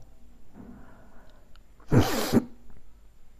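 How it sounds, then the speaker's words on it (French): A single sharp, wet sniff bursts out after a quiet moment, close to the microphone. "Pardon pour le reniflement absolument dégueu"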